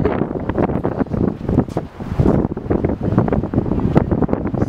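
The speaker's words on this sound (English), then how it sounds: "So windy here." Strong wind in Antarctica buffets the microphone in loud, continuous gusts with a low roar and rumble, and no voices.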